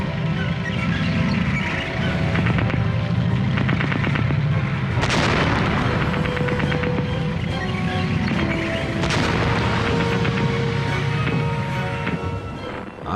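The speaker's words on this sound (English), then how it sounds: "At last they got within effective range and opened fire again." Heavy booming gunfire from a British First World War tank firing at a German A7V tank, with loud sustained rumble and mechanical clatter throughout, and two sharp prominent blasts standing out above the din.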